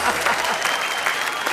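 A studio audience at a Hindi poetry comedy show claps at the end of a poem, a dense, steady burst of applause that is close and loud for a moment.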